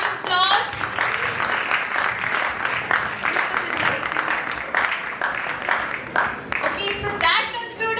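An audience applauds after a startup pitch at an international startup competition, with dense clapping mixed with voices talking and calling out over it, steady and fairly loud for the whole stretch.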